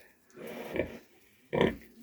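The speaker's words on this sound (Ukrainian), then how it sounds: "Ось таке то перші кроки земного життя маленьких поросят." Newborn piglets grunt while nursing at a sow's teats, two short bursts of close, moderately loud grunting with a quiet pause between them.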